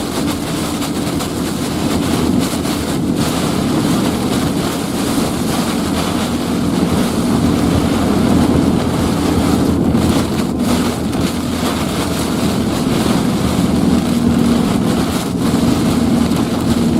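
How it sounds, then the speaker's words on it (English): Strong storm wind gusts during a severe thunderstorm in southeastern Nebraska roar and buffet the microphone as a loud, continuous rushing noise that holds steady for the whole stretch, with no voices. "Do you think that's running a 60 mile an hour wind right here?"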